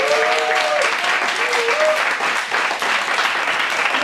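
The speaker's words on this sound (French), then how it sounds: "je vais vous demander un tonnerre d'applaudissements pour Pops qui s'initie à la gratte" A live audience claps loudly and continuously for a performer learning guitar, with a few whoops and cheers rising above the dense applause.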